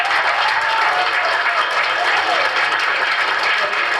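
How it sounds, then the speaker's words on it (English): Loud, sustained applause from the audience at the Sanskritik Samagam 2025 cultural event for the performers, a thick, even roar of many hands clapping that holds throughout. "Please give them a huge round of applause."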